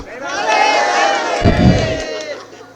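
Large political rally crowd roaring a chant in reply to a Takbir slogan call, a loud sustained mass of shouting voices with a heavier surge midway through.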